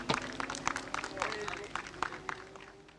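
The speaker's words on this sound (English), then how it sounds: "ladies and gentlemen, one big round of applause for" A crowd at a KZ2 shifter kart race meeting gives scattered, moderately loud applause, with sharp individual claps under a running voice and a faint steady tone beneath.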